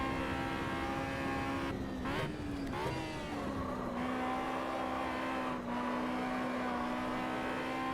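A race car engine in the Automobilista 2 racing game at Oulton Park, a loud continuous droning roar that dips and climbs with gear changes and throttle, sustained throughout.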